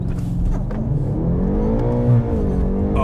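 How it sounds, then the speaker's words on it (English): A tuned BMW M8 Competition making about 882 horsepower revs hard in first gear up to the rev limiter, a loud, close, rising engine note with a steady harmonic whine that bounces off the limiter briefly near the end. "I banged the rev limiter in first"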